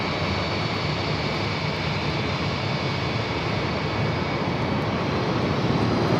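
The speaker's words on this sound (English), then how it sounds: "319 in the background came in from Portland" An Airbus A319 jet airliner arriving at Phoenix Sky Harbor produces a steady, broad engine roar that holds at an even loudness for the whole stretch.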